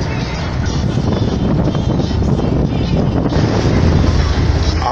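Strong east wind at sea on the Toronean Gulf roars and buffets a microphone continuously, loud and close, with the rush of open water underneath.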